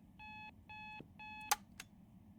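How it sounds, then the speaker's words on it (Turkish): An alarm clock in a horror video game rings in three quick, evenly spaced electronic beeps, each a bright pulsing tone, followed by a couple of sharp clicks or knocks in an otherwise quiet room. "Ya nefret ediyorum bu alarm sesinden ya."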